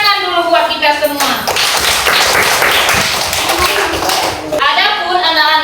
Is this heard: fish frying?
no